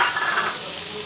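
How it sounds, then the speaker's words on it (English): Chopped carrots frying in a pan for oats upma, a steady close sizzle with soft stirring scrapes running through the whole short stretch, no voices. "To it we will add the chopped carrots."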